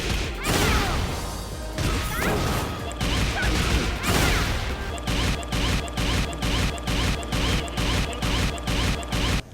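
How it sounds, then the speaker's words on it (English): Crashing hits and smashes give way to a rapid, evenly spaced run of sharp bangs that sound like gunfire, loud and close. "When people are making attacks sound like gunshots going off."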